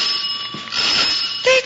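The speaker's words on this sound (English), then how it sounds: "That's our doorbell, Giuseppe." A doorbell rings inside a home, a bright, loud, sustained bell tone lasting over a second, with a sharper second strike near the end and no voices.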